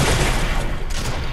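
Rapid gunfire from the video game Fortnite, a dense loud burst of shots packed together over about a second and a half.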